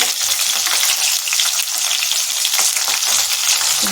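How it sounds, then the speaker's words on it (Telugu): Cumin, mustard seeds, crushed garlic, green chili and curry leaves frying in hot oil, a loud, steady, close crackling sizzle throughout with no talking. "కొద్దిగా కరివేపాకు కొంచెం ఫ్రై అవ్వాలి"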